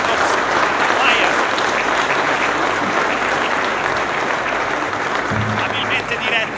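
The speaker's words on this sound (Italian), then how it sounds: "Facciamolo questo applauso a St. Jacob's Choir" Audience at an anniversary celebration of the 46th Brigade in Pisa applauding St. Jacob's Choir, loud sustained clapping from a large crowd throughout, with a brief low voice near the end.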